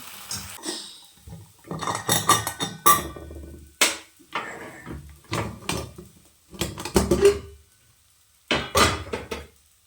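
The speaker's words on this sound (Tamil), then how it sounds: "இதை நம்ம இப்போ ஒரு பிளேட்டில் கொட்டி ஆற வச்சிடலாம்." Roasted horse gram for chutney tipped out of a pan onto a plate in a home kitchen, a run of close, loud clattering and rattling bursts with short pauses between, no voices.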